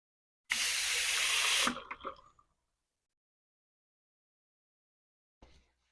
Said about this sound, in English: I am going to choose to wash because if I make it a habit of washing before and after, beginning and end of the service, I won't forget